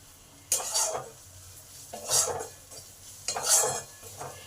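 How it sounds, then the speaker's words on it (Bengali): A spoon scrapes and stirs spices frying in a pan in three separate bursts over a faint sizzle, with quiet gaps between strokes. "এই মশলাগুলো দু মিনিট ভেজে নেব"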